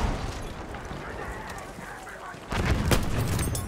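A rifle shot rings out in the video game Battlefield 1, a Martini-Henry sniper rifle, as a sudden loud broadband boom midway that lingers as rumbling battlefield noise over a steady bed of distant gunfire and ambience.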